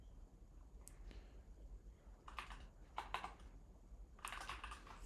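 Code being typed on a computer keyboard, soft close key clicks in short bursts with pauses between them, quiet against a low hum.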